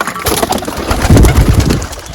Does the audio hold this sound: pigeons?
yes